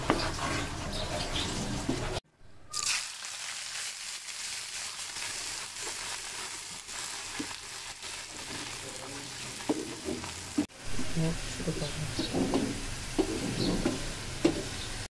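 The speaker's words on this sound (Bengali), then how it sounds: "বাগারের সাথে তেলে একটু শুকনো মরিচ ভেজে দিব।" Dried chillies frying in hot oil as a tempering for beef tripe, a steady sizzle with stirring and clinks, alone with no talk, broken by a short quiet gap near the start.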